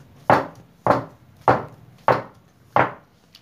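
A cake tin holding chocolate biscuit cake batter is knocked against a surface five times at an even pace, each tap a close, dull wooden thud, with no talk.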